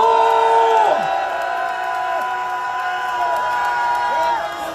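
A large crowd at a political rally in South Korea cheers and shouts loudly together, with rising whoops and cries repeating in waves for several seconds.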